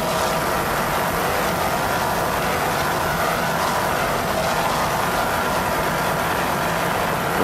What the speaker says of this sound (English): Those Merrick Racing engines sound excellent.